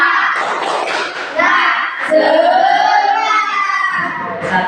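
A group of children chants 'tepuk semangat' together, loud and close, with rhythmic hand claps and thumps punctuating their voices.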